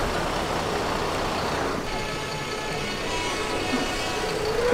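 A Bintang Kejora intercity bus, dusty from Sumatra, arrives at a depot. A steady, fairly loud engine rumble and road noise continue without a break, with a faint beep near the end.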